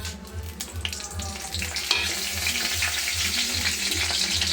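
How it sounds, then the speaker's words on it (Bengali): Bay leaf, cumin seeds and dried chilli sizzle and crackle steadily in hot oil in a pan, a continuous close frying hiss with a low background hum and no voices. "তেলটা গরম হয়ে গেছে, ফোড়ন দেবো তেজপাতা, জিরে, শুকনো লঙ্কা"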